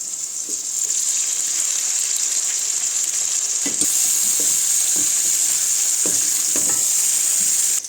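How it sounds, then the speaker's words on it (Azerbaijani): Steady, loud sizzling of potatoes and eggplant frying in a pan, with occasional soft scraping and stirring knocks throughout. "Biraz badımcanla bir yerdə hər ikisini qızardacağım."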